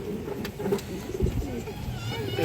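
Pigeons of old Bangladeshi breeds such as khoira-necked and red khaki coo in soft, low repeated calls, moderately close, over steady background noise and possible voices.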